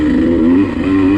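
A dirt bike engine drones loud and close on a woods turn track, holding a steady, throbbing pitch with slight surges as the throttle shifts, with no one talking over it.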